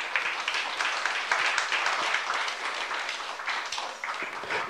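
A church youth congregation claps together during a sermon, a dense, steady wash of applause filling the whole stretch at moderate loudness without letting up.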